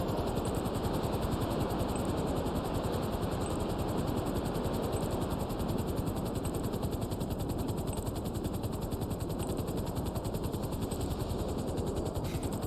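A helicopter in the video game GTA Online flies with a steady rotor chop and engine whine that stays constant and fairly close throughout, with no talking.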